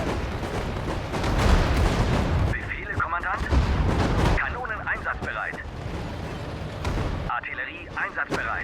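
Artillery cannons boom repeatedly in the WWII strategy game Sudden Strike 4 during the Battle of Kursk, with heavy blasts and rumble throughout and in-game German voices speaking between the shots.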